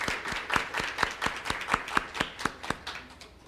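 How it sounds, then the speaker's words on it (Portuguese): A small audience at a public panel discussion claps in a rhythmic, evenly spaced pattern of distinct, crisp claps that stays close and clear, then gradually thins and fades out. "Aliás, uma salva de palmas também"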